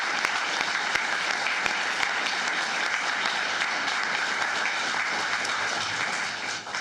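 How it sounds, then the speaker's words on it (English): Steady applause from members of a county commissioners court meeting audience, a dense even wash of many hands clapping for several seconds before tapering off at the end, with a few sharper claps standing out. "Let's give her one more round of applause."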